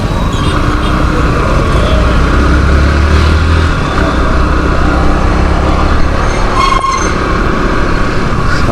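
Dense city road traffic in Chennai heard from a Pulsar NS 160 motorcycle, a steady loud rumble of engines and wind with a brief horn toot near the end, no voices.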